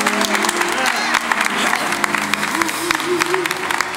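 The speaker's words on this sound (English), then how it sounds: "I want to give her a warm hallelujah, a round of applause, because she deserves it." Audience applause at a spring gospel concert, a steady wash of clapping with crowd noise and some voices and music mixed in, fairly loud and continuous throughout.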